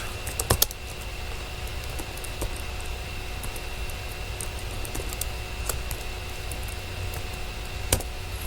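Someone types on a computer keyboard: faint, scattered key clicks, with an occasional sharper tap, over a quiet, steady room hum.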